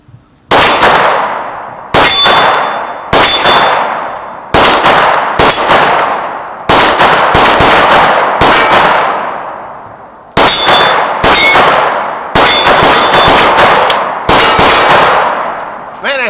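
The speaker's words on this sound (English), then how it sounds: "I like to hear it go ding, ding, ding" Staccato C2 double-stack 9mm pistol fired outdoors in the cold at steel targets, each loud shot followed by a bright ringing ding that decays, about a dozen hits in quick strings with short pauses.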